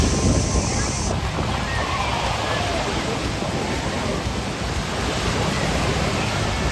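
Steady rushing wash of waves on a lake beach shore, with broad noisy wind buffeting the microphone throughout.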